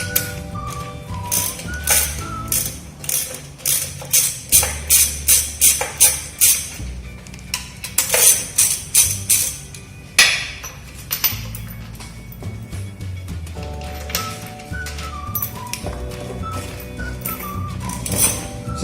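A rigid handle with a 20 mm socket loosens transmission case bolts on a Torqflow transmission, giving repeated close, loud ratcheting clicks in bursts with mechanical creaks between them.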